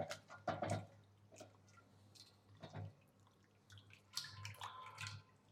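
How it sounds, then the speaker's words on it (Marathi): Flattened rice (poha) is rinsed in water in a kitchen bowl, with soft splashes, drips and sloshing in irregular bursts against a low steady hum, fairly quiet and close. "पहिले पोहे धुवून घेतोय प्रॉपर"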